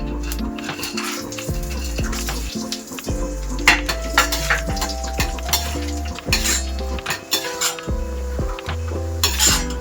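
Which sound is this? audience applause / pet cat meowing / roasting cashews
roasting cashews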